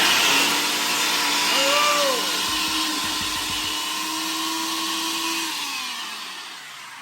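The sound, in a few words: blender running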